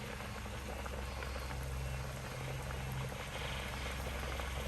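A pot of chicken curry in coconut milk with green chili simmers steadily, a continuous close bubbling and hiss with no voices.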